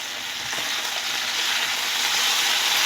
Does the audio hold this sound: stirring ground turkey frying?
yes